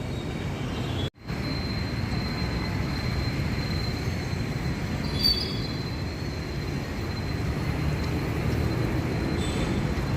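A metro train rumbles past near Banashankari metro station in Bengaluru, a steady low roar of wheels on track with faint metallic squeals, close and loud throughout.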